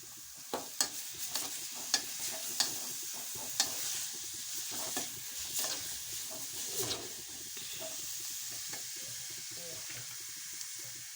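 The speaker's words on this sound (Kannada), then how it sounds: "ಈ ಮೂಲಂಗಿ ಹಾಕ್ತೀವಿ ನೋಡ್ರಿ ಹೆಜ್ಜಿದ ಮೂಲಂಗಿ" Grated radish fries and sizzles in a pan on a gas stove while a spoon stirs it, with sharp scraping knocks in the first few seconds over a steady hiss.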